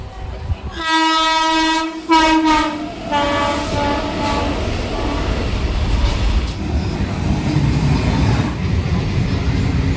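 A Lalgola passenger train pulls out of the station, opening with a loud, sustained horn blast followed by a second shorter one. The rumble of the departing carriages then continues under faint background voices.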